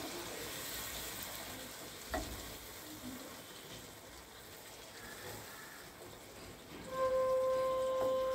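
Yogurt, with a little water rinsed in from its bowl, is stirred into spices in a pan for a Bengali pointed gourd dish. A soft, subdued sizzle carries occasional light stirring, and it grows louder near the end.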